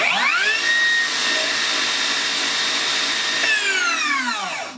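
Cordless Makita 40V 270mm track-compatible circular saw spinning up to full speed on a fully charged 5Ah battery, a loud steady high whine held for several seconds before winding down at the end.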